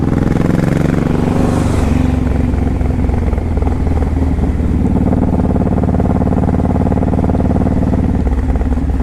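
Honda VTX 1800 cruiser motorcycle engine running close by, a loud, deep, continuous rumble with a throaty pulse that holds steady throughout, no one speaking.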